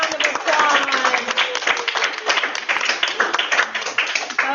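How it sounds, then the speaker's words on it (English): Students applaud in a chemistry lecture hall, a dense, steady wash of many hands clapping that fills the whole clip, with a few voices calling out over it. "Give yourselves a big round of applause."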